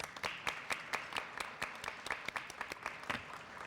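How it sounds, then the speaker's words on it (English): A small audience applauds at a heritage talk, a thin, fairly faint patter of individual claps with distinct sharp hits rather than a dense roar, running steadily throughout. "that deserves a round of applause"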